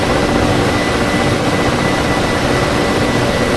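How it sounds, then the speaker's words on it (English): A Ka-50 Blackshark helicopter in the DCS World flight game spins up its rotor, producing a loud, steady, dense rumble and whine of engine and blades that does not break. "Oh wow, my rotor is spinning up again."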